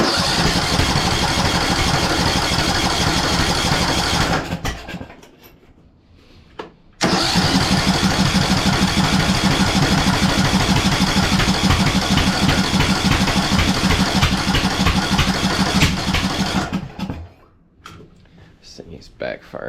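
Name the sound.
riding mower engine running and backfiring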